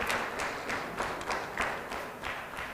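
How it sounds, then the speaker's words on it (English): Faint audience applause at a Rwanda moot court competition on international humanitarian law, with scattered hand claps swelling in soft rhythmic waves. "Big applause, please."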